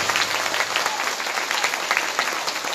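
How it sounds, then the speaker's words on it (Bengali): An audience at a seven-day Srimad Bhagavatam recitation gathering in Assam claps loudly and steadily, a dense, close, continuous sound throughout with no voices over it. "অতএব আপনারা এদের জন্যও খুব জোরে তালি বাজাও"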